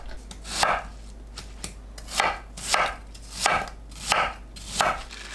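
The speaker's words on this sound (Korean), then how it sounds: "양파, 홍고추 3개, 배를 믹서에 갈기 좋은 크기로 썰어주세요" A knife chops onion, red chili and pear on a cutting board in steady, evenly spaced strokes, about seven close crisp cuts with no talking.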